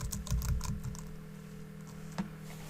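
Faint typing on a computer keyboard: a cluster of quick, light key clicks in the first second, then a single isolated click later, set against a low steady background hum.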